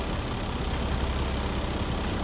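A gasoline BMW 740i (7 Series) engine idles about thirty seconds after a start, a steady, close, even rumbling hum with no change in pitch.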